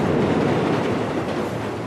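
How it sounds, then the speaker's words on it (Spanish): A Buenos Aires subway train rumbles past, a loud, steady, dense roar that fills the whole moment without a break and with no voices. "¿Y eso qué fue? El subte."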